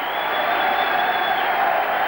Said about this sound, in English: Receiving a tremendous round of applause.